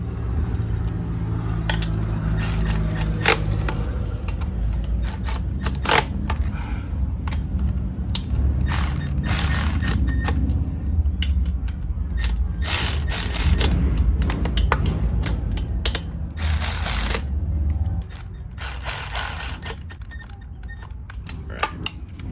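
A hand ratchet tightens the front cylinder head bolts on a Harley-Davidson Street Glide, making close, repeated bursts of sharp clicking strokes with short pauses between them, plus light clanks of tools and metal; no talking.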